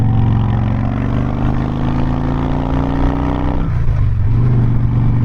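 A Harley-Davidson Softail Fat Boy motorcycle engine pulls hard under acceleration, its loud rumbling note rising steadily in pitch before easing off near the end as the rider shifts or lets off the throttle.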